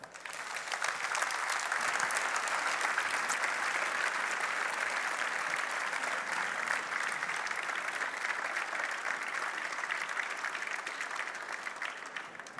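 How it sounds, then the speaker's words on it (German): Long, sustained audience applause after a keynote talk on journalism, a broad, even wall of clapping from a large crowd that holds steady at a moderate level throughout. "Ein langer Applaus, wahrscheinlich der längste Applaus, den ich heute gehört habe"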